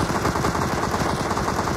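Rapid bursts of gunfire from a shooter video game, dense and continuous like automatic fire, loud and steady across the whole moment with no voices over it.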